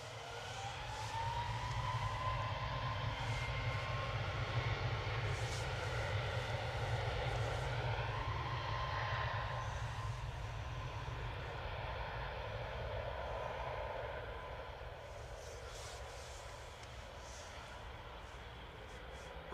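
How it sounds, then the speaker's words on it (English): Ryanair Boeing 737 Max 8 jet on its takeoff roll at Manchester Airport, a loud, steady engine roar with a deep rumble that holds for most of the stretch before easing slightly, no talk over it. "Ryanair 2131 to Lanzarote, 9HVUO and Max 8 on the roll there"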